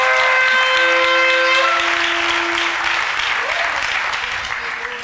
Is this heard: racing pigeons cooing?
no